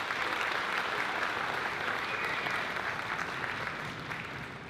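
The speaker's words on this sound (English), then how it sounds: "I'd like to give them a round of applause for their help in volunteering." Steady, dense applause from a school concert audience in an auditorium for the volunteer crew who moved chairs on stage at a fourth grade concert, sustained throughout and tapering slightly at the end.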